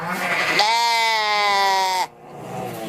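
A synthetic, robotic-sounding sheep bleat plays as a single loud, sustained tonal cry lasting about a second and a half, ending abruptly into quieter background.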